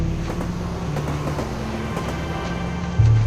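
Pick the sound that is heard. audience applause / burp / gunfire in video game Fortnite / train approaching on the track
train approaching on the track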